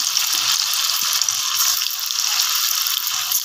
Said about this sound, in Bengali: এবার সবগুলো আমি অল্প অল্প করে ভাজি নিই।